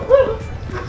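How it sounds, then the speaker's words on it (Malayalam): Dog near Virupaksha Temple in Hampi letting out one short, close yipping bark, fairly loud, followed by a softer whimper. "പട്ടി"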